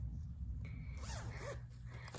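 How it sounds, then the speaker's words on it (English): A small zipper on a pillowcase is drawn in a couple of quick, close, faint zipping strokes. "It's got a little zipper here."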